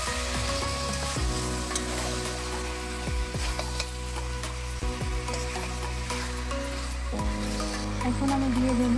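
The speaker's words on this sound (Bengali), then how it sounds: "মাংসটাকে কষিয়ে নেব।" Mutton sizzles steadily in hot oil for a spicy Bengali mutton kosha curry, with a continuous fry hiss broken by several distinct scrapes and knocks of a spoon stirring the pan.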